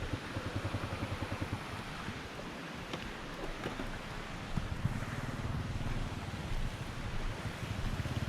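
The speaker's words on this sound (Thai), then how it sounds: "นี่ครับ บรรยากาศน้ำตกครับ" Waterfall in a forest on Doi Pha Hom Pok, a constant rushing roar of falling water with a deep, even wash and no pauses, heard from fairly close.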